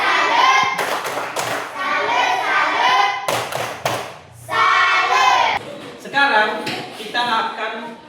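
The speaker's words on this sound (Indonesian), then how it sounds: "Sekarang kita tepuk salut untuk kita semua." Children in a classroom doing a rhythmic clapping chant, sharp bursts of claps alternating with a group of young voices chanting and a teacher speaking between them.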